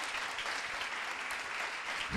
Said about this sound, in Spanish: Fuerte el aplauso para Martín